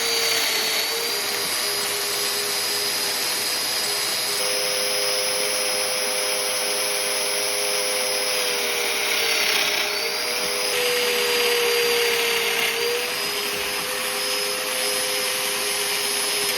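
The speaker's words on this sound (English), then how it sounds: "I cut all of the mortises into the corner pieces of the crate first." A domino joiner cuts mortises into wooden crate corner pieces, giving a steady, high-pitched motor whine with an airy rushing hiss that holds for many seconds, pitch dipping briefly mid-cut, near and fairly loud with no voices.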